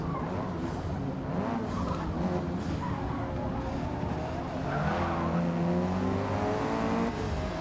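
A car in the racing game Forza Motorsport (2023) power-slides with tires squealing over a steady, loud engine drone, the screech rising and falling for several seconds.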